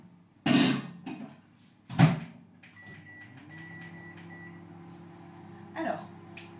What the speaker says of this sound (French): Et donc au micro-ondes, je vais déjà le mettre 3 minutes.